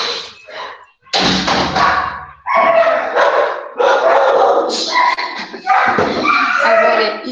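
Several dogs shut indoors in a room bark in loud, overlapping bursts close by, with howling yelps and no steady rhythm.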